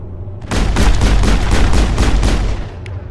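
Loud, close gunfire in the Mass Effect video game during a battle on Feros, a sustained rapid volley of shots lasting about two seconds before cutting off.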